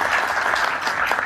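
Studio audience applause at a Turkish interactive comedy show, a dense steady wash of clapping filling the whole short stretch at a fairly loud, even level with no voices over it.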